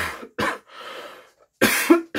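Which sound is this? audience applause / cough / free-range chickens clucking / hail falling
cough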